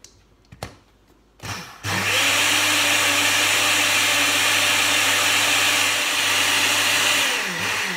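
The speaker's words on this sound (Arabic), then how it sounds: "غنطحن دابا، نطحن هاد الخليط كله" After a few clicks and a brief rumble, an electric blender roars to life grinding a flan mixture for a prune flan tart, holding a loud, steady whine for several seconds before slowing at the end.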